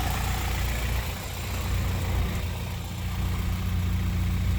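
The F20B engine of a Honda wagon idles after a valve lash fix, giving a steady, close, low rumble that holds even throughout with no talk.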